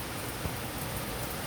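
Rain falling steadily on a rainy day, a constant even hiss of drops on surfaces, close and uniform through a short stretch with no talk.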